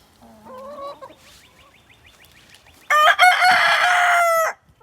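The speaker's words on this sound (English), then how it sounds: "There's my chickens." A hen gives a couple of short clucks, then after a quiet pause a rooster crows loudly and close by, one long drawn-out call.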